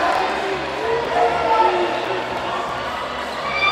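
A basketball crowd in the last quarter of a finals game, Samick (Zamic) against Abu Dhabi in Dubai, keeps up a steady loud cheer throughout, with voices mixed into the noise.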